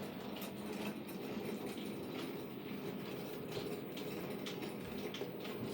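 An 00 gauge model train runs steadily on a layout with a tunnel, giving a continuous low mechanical rumble and clatter at moderate level throughout, with no talk.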